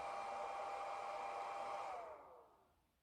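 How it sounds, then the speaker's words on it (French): A small cooling fan in a Hobbymate Speed H6 battery charger whirs steadily with a high tonal whine, then spins down and fades away near the end. "vous entendez le ventilateur"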